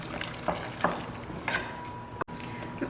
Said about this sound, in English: So I'm just gonna keep stirring.